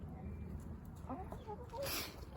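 Chicken clucks in short bursts over a low rumbling background, with some faint activity nearby.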